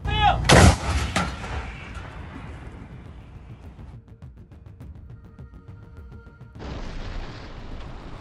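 Heavy self-propelled artillery fires once with a loud, near blast at the start, followed by a second report and a long rumbling decay into open-air ambience with faint mechanical hum.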